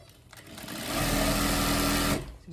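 Sewing machine running steadily as it back stitches African print fabric, a close, loud continuous whir that rises after a brief start and holds for about a second before stopping abruptly, with no talking.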